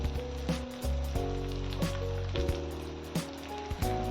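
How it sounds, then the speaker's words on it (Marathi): Green chilli thecha sautés on a low flame, with a soft sizzle running under a repeating tonal background sound that is broken by periodic bumps, and no one speaking. "आता यावर हा संपूर्ण ठेचा टाकायचा आणि याला चांगलं असं लो फ्लेमवर परतवून घ्यायचं आहे।"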